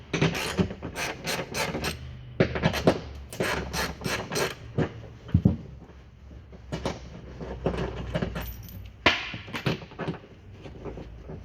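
Ratcheting and metallic rasping as three 10mm bolts are undone from the rear wiper motor on the boot panel of a 2004–2012 Audi A3 8P, in bursts of rapid clicks with short pauses, close and clear.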